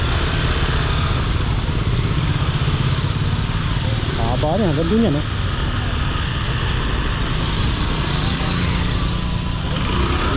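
Motorcycles and bicycles move through busy street traffic in Malabon, with a steady engine drone and a brief horn, under near continuous conversation.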